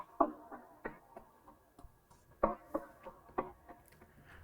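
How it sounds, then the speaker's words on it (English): Percussion loop from a Cymatics sample kit, dry clicky hits and woody ticks in a bouncy, syncopated rhythm, fairly quiet and close with no other instruments. "Next is this PERC loop that I found in one of the cymatic kits."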